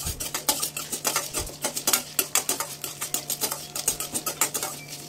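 Urad dal and coriander seeds being roasted in oil in a pan, stirred with a spoon that makes quick, uneven scraping and clinking taps against the metal, close up and steady, with no talking.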